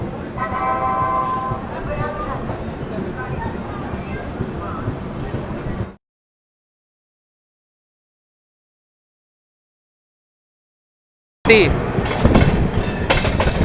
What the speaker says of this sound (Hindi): गोरखपुर से वाराणसी सिटी के बीच चलने वाली इंटरसिटी एक्सप्रेस।